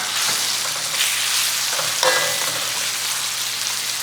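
Coconut milk pours into a hot frying pan where pork fries with fermented fish paste, giving a dense, even, loud sizzle close up with a brief surge of hissing partway through.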